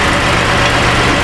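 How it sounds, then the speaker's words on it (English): A Chevy Impala engine that has sat unused for two years and runs with a shake, idling roughly and loudly at close range with a steady low rumble and no clear rise in pitch. "Give her the old rev up tune-up."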